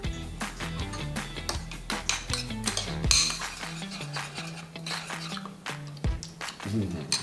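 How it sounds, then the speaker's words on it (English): A spoon stirs Greek yogurt sauce with black pepper in a bowl, giving a run of quick, close scraping clinks against the dish that pause briefly midway before resuming, with soft music underneath. "We mix with our spoon."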